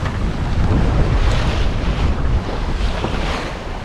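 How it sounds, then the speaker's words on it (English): Wind buffets the microphone and waves wash and rush around a sailboat under full sail in about 11 knots of wind, offshore on passage to the Azores: a loud, continuous roar with no talk. "We've got 11 knots of wind, we've got full sails up."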